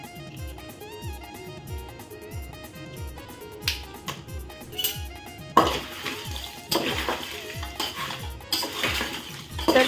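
Homemade aagri masala spices being roasted in a pan, a spoon scraping and stirring in a quick repetitive rhythm, with clinks against the pan and louder scrapes later.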